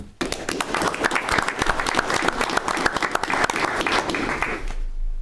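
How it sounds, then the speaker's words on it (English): Steady, dense applause from an audience at a school district board meeting fills the room for several seconds, then stops abruptly. "A round of applause to these different groups."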